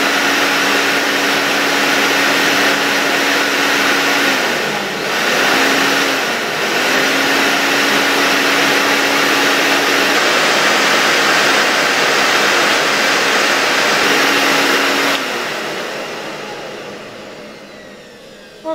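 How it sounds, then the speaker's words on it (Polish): A Interstate Engineering Compact C-6 vacuum cleaner from around 1964 runs with a loud, steady roaring whine and a droning motor tone that dips briefly a few times, then cuts off near the end as the motor spins down. "Ten odkurzacz jest tak mocny, że w pewnym momencie tutaj zaczął mi wsysać ten fartuch BHP do środka."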